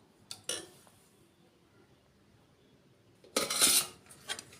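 Metal cutlery clinks against dishes in two short bursts separated by a quiet pause, as rice, egg stir-fry and tomato thokku are served onto a plate at home.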